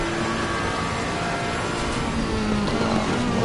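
Race car engine noise from the Assetto Corsa Competizione racing game at a GT endurance race at Monza, a steady droning whine with rising harmonics that runs loud and continuous throughout, with no talking.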